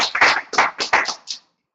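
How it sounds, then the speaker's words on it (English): Small group applauding at a morning training session, a brief burst of close hand claps in uneven clusters that stops abruptly after about a second and a half. "give yourselves a round of applause"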